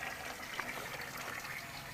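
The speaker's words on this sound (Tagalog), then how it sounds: "Tuloy-tuloy yung tubig." Water flows freely, without any pump, from a pipe buried in the ground beside a rice field in Victoria, Oriental Mindoro. It makes a faint, continuous gushing and splashing that carries on evenly throughout.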